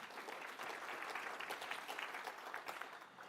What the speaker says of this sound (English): feel free to applause